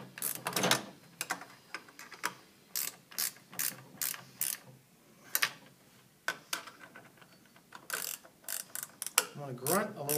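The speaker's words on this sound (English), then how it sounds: "I will take my 10 millimeter wrench, and I'm going to tighten all four of my rotation bolts" A 10 mm ratcheting wrench tightening four rotation bolts on Ride FlexLoc mounting hardware, giving close, crisp ratchet clicks in repeated short bursts separated by pauses.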